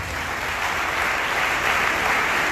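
A church congregation applauds during a Sunday worship service, a thick, even wash of clapping that holds steady throughout.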